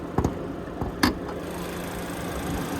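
A 2026 GMC Terrain's 1.5-liter turbocharged four-cylinder engine idles with a steady low rumble, broken by a few short clicks near the start.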